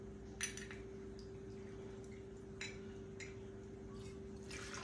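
Gin pours into a metal jigger for a martini with a soft, faint liquid trickle and a few light clinks over a steady background hum.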